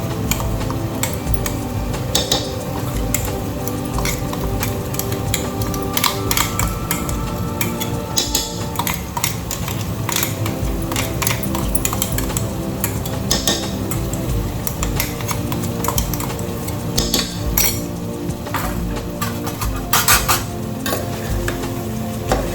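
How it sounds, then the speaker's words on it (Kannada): Green masala of ground green chilli, mint and coriander being stirred and roasted in a pan for mutton donne biryani, with steady scraping and clinking of a spoon against metal and a light sizzle running throughout. "ಗ್ರೀನ್ ಮಸಾಲ ಹಾಕಿದ್ಮೇಲೆ ತುಂಬ ರೋಸ್ಟ್ ಮಾಡಬಾರ್ದು, ಅದು ಕಪ್ಪಗೆ ಹಾಕ್ಬಾರ್ದು, ಗ್ರೀನಾಗಿ ಇರಬೇಕು."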